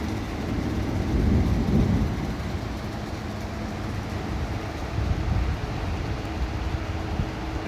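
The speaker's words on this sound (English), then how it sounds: "It's like starting to rain really fucking hard." Heavy rain pours down steadily as a tornado approaches, with thunder rumbling low and a broad roar from the storm filling the scene; no one speaks, and a louder surge of rumble swells briefly before settling.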